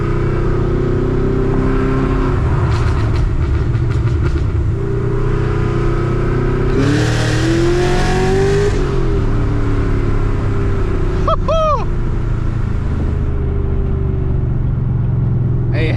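A 900 hp supercharged Nissan Z running on E85 pulls hard under full throttle, the loud engine roar climbing through no-lift shifts with a rising supercharger whine, heard steadily from inside the car.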